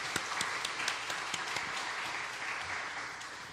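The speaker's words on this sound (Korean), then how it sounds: "격려의 박수 한번 부탁을 드립니다." A church congregation applauds in encouragement for a missionary serving in Mongolia, steady massed clapping with a few sharper individual claps standing out near the start, tapering slightly at the close.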